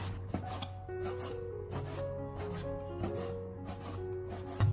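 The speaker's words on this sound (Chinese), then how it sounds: "我们在分切过程中尽量的将它切得越小越好" A knife slices lean pork into small pieces on a cutting board, giving a run of close, repeated cutting strokes over a steady rasping background.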